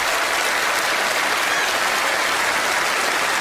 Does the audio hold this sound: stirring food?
no